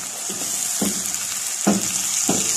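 Gizzards and onions sautéing in a cooking pot, a steady soft sizzle broken by a few sharp scraping stirs.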